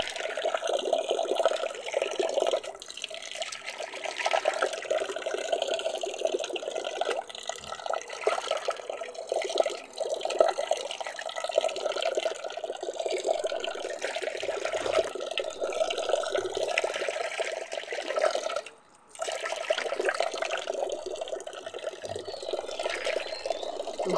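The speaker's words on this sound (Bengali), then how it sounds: "এরকমই একটা একটা করে খুলে ভালো করে সব ধুয়ে নিচ্ছি।" Ash gourd leaves are rinsed one by one in water, with continuous splashing, trickling and pouring close by and a brief pause near the end, without any talk.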